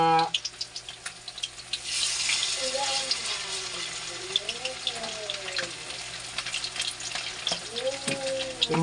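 Chicken frying in a pan gives a continuous close sizzle with scattered pops and clinks, while a voice hums or talks faintly underneath.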